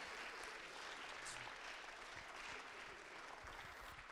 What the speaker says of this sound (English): I want to give a round of applause for our panel.